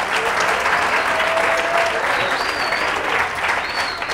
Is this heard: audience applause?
yes